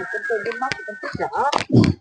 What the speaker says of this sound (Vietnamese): xem là những con gà còn lại để bán tết như thế nào nhá